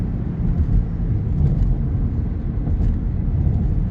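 Car driving along a road during a driving test lesson, a steady low rumble of engine and tyre noise close and continuous with no voices.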